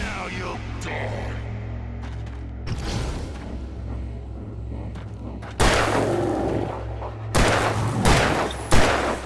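Gunfire in Alan Wake Remastered on PS5, loud bursts of shots and booming impacts over a low droning hum, growing heavier toward the end with no speech.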